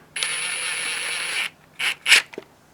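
Jack bolts being driven into the cover of an Atlas five-cylinder engine, a sustained squeaky metallic grind followed by a few short ratcheting scrapes, close and clear with no talk.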